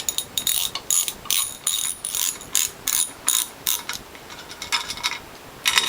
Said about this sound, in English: So let's remove the pump bolts.